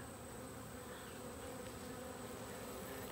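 Honeybees at an opened hive with capped honey, brood and wax moth larvae hum in a dense, steady close-up drone, with no voices.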